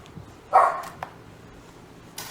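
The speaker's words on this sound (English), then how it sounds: "Gucci, move so he'll stop barking at you." A dog lets out one loud, close bark, followed by a short yip and a final faint bark against a quiet indoor background, with no voices.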